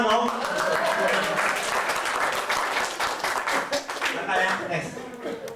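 A room of people clapping hands during a sales and recruiting talk, a loud, continuous wash of applause that thins slightly toward the end, with voices murmuring underneath.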